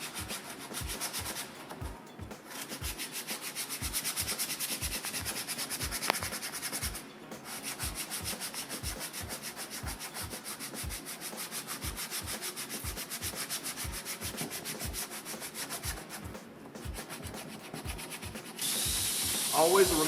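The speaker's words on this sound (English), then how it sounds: "remove any paint overspray that may be in the welding area" Steady rhythmic scrubbing of paint overspray off the back of a plastic panel before hot air welding, a continuous rough rubbing texture with regular strokes lasting throughout, close and fairly loud.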